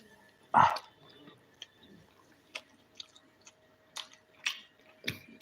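Someone eating fried chicken, with a loud bite near the start and then sparse, soft, close chewing and squishing sounds with quiet gaps and no talk.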